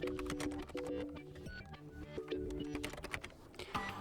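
Keystrokes on a keyboard while entering a contact name in a lost-or-stolen report form for a RedMagic 10 Air phone, a steady stream of light close clicks over a soft tonal background.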